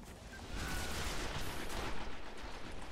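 Assault rifle fire in the video game Destiny, a dense, steady rattle of rapid shots lasting about three seconds, fairly quiet and without talking.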